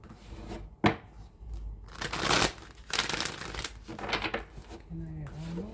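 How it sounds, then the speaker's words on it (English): Tarot deck being shuffled by hand, a series of papery riffles and soft slaps in quick bursts, close and moderately quiet, with a voice briefly speaking near the end. "a few more shuffles."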